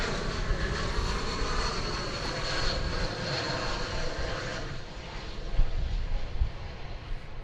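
A plane, Flight 9 bound for Albuquerque, rumbles steadily at DFW Airport, a broad, fairly distant engine roar that swells slightly without pause.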